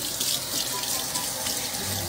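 Water runs steadily from a tap into a sink, a continuous broadband hiss and splash held at an even, close level with no voices.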